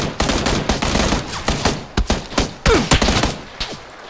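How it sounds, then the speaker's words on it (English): Bursts of loud gunfire from the video game PUBG ring out in rapid succession, sharp shots and short automatic volleys with brief gaps between them, close and punchy. "You're getting shot at."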